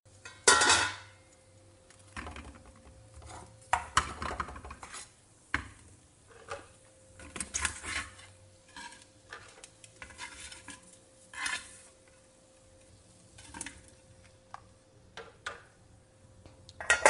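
A heavy cast-iron pot holding hot porridge is set down on a table, followed by scattered clinks and scrapes of a soup spoon as salted butter is added and stirred, close and sparse with quiet pauses and no voices.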